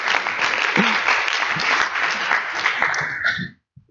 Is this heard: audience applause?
yes